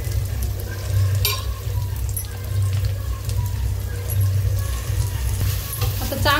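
Chopped onions sizzle and fry in a pan for a paneer and potato dish, a steady hiss with occasional stirring scrapes and brief louder crackles, heard close up while faint music from an outside function carries in the background.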